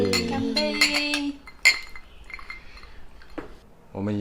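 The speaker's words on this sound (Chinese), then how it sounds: "干杯！" Drinking glasses clink together in a toast at a dinner table after a meal. A bright, brief chime rings out in the middle of the clip, with cheerful voices before and after it.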